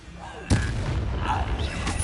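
A Hogwarts Legacy Incendio fire spell goes off as a sudden booming burst with a whooshing flare, followed by sustained crackling roar and a second swell near the end, amid game ambience.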